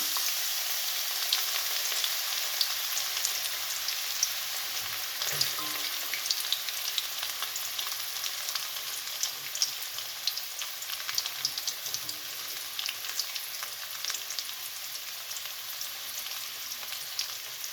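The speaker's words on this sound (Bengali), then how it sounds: "শুকনো মরিচ দিয়ে দিচ্ছি মিডিয়াম সাইজের একটি পেঁয়াজ দিচ্ছি" Onion and dried chillies frying in hot oil, a dense, steady crackling sizzle that runs unbroken throughout, close and fairly loud.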